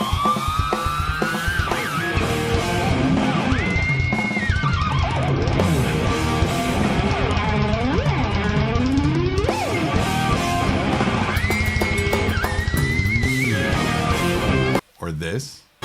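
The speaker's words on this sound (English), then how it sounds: "That, of course, was the sound of a guitar with the tremolo system." An electric guitar played through a tremolo system swoops and dives as the whammy bar bends the notes up and down, giving wavering, sliding pitches and squealing harmonics over a dense backing, ending with a brief dropout.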